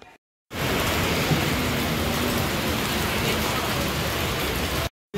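Steady, loud rain pouring down in a wet monsoon downpour, a dense continuous hiss filling the scene after a brief quiet start and stopping abruptly near the end, with no talk.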